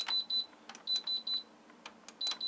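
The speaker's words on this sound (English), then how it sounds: "you get the same annoying BBB sound" Several short high-pitched beeps from a John Lewis (Electrolux) JLTDH15 tumble dryer in quick groups of two and three, close and clear, mixed with soft button clicks.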